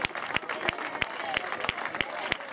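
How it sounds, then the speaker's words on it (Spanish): Spectators at a country cross race in Valdemierque applaud finishing runners, steady dense clapping from a nearby crowd with sharp rhythmic claps standing out, under shouted cheering voices. "¡Aplausos para todos!"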